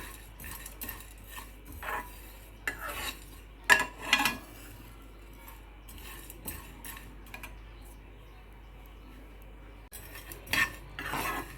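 Sesame seeds dry-roast in a pan and a spoon stirs them, producing scattered scraping and clinking strokes with quiet gaps, loudest in a few bursts midway and near the end.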